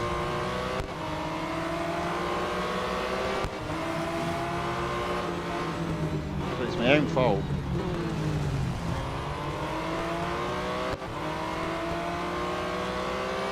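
A race car engine in the Real Racing 3 video game drones loudly and continuously, rising and falling with gear shifts and brief revving, while someone talks over it.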